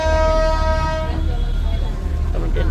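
A departing train sounds a long, steady horn blast for about a second, loud and close, then fades into rumbling station noise.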